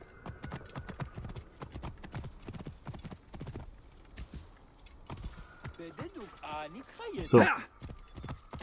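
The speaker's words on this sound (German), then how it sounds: "Manchmal meint man auf der Karte, man muss so ewig weit reiten." A horse ridden at speed in the video game Assassin's Creed Origins gives steady, rhythmic hoofbeats close by, with a louder burst near the end and brief talk over it.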